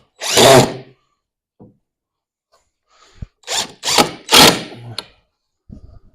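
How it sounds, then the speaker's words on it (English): A power drill whirs in short bursts, first one long burst, then several quick pulses close together, driving screws into wood with quiet pauses between. "when we drill our screws in"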